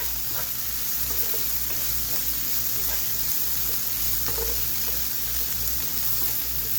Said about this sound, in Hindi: इसको अच्छी तरह मिक्स करूंगी ऐसे।